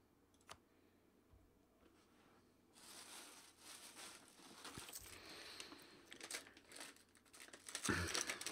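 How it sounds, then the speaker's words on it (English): A small cough drop wrapper crinkles and crackles as it is opened, with soft plastic rustling building in bursts to a louder crumple at the end, close to the microphone. "I've got a little cough drop thing, which I'm just going to open up"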